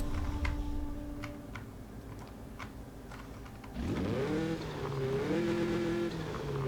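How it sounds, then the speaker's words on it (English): Turbocharged Volkswagen Beetle engine in Forza Horizon 5, revving up loud and close from about four seconds in, its pitch sweeping upward in stepped gear-like climbs after quieter idle ticking. "You're gonna hear the turbo."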